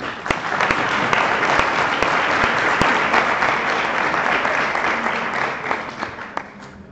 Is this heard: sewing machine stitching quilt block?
no